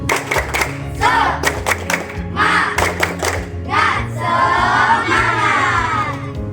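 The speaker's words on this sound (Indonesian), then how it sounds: "Tepuk semangat." Students lined up at an Indonesian school beat out a rhythmic spirit clap in bursts, sharp patterned claps alternating with short group chants and shouts, loud and nearby.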